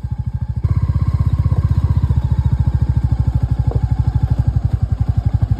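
A Royal Enfield Bullet motorcycle thumps steadily on a rough road near McLeod Ganj, its low single-cylinder beat loud and close throughout with light clatter on top.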